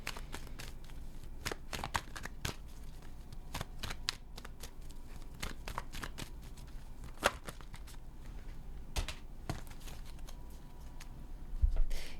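Tarot cards shuffled by hand during a card reading on a couch, a steady run of soft riffling flutters and snaps repeating for the whole stretch, close and fairly quiet.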